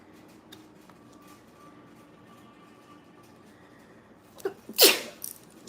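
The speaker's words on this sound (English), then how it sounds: "Them sneezes been so random." A single sharp sneeze bursts out loud and close near the end, after a stretch of quiet room tone with faint background hum.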